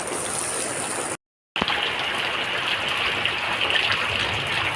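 Steady, dense rush of heavy rain fills the clip, broken by a brief moment of silence.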